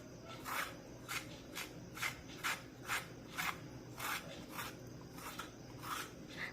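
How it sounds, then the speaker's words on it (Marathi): Peeler or fingers rasp over ridge gourd skin, stripping the outer peel in about a dozen short, even strokes. The scraping is close and soft, regular in rhythm, with no talking. "अगदी हलक्या हाताने ही जी वरची साल आहे ती काढून टाकूया"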